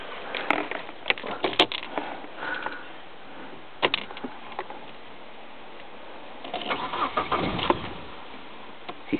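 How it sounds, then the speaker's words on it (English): A 2001 Omega 2.2 petrol engine is cold started: starter cranking, then the engine catches and runs, close up with clicks and handling noises around it. "So we'll start it from stone cold."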